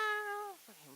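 A single drawn-out meow made by a human voice imitating a cat, clear and close, gliding downward before trailing off into a faint second note.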